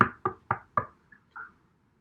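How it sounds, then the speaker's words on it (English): Four quick, evenly spaced knocks on a wooden door, loud and close, followed by a couple of faint small sounds. "Tommy gave a lively knock on the door."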